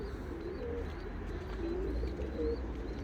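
Male Turkish tumbler pigeon cooing in a loft, soft low rolling coos at intervals with faint higher chirps, fairly quiet against a steady background hum.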